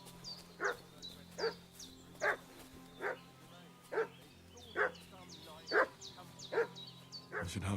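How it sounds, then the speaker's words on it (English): A dog in Kingdom Come Deliverance 2 barks insistently in a village, about ten sharp, evenly spaced barks at moderate distance over a faint steady background hum. "What's that dog making such a fuss about?"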